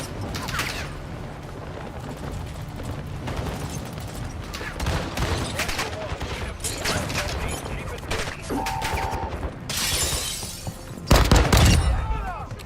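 Pistol fire in the shooter game DMZ cracks out in rapid bursts over busy in-game mechanical noise, with a louder heavy boom near the end.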